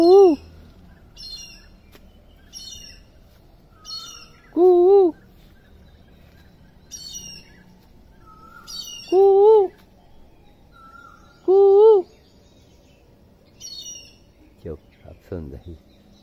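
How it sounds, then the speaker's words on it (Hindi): An Asian koel calling in the morning, its clear rising notes repeated several times at intervals, mixed with other birds' higher chirps and a voice near the end. "कोयल की आवाज़ छोटी सी पक्षी और आवाज़ कितनी दूर तक गूंजती है"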